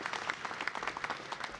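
A convention audience claps in a brief, steady patter of many hands, moderately distant and fairly faint, with no one speaking over it.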